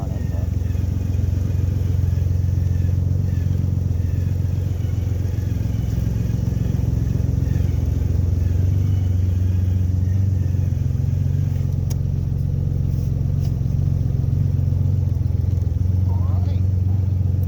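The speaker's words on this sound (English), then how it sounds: "Gotta have the bike running." A Honda Gold Wing motorcycle engine runs at a steady idle in cold weather, a loud, close, even low rumble throughout with faint clatter.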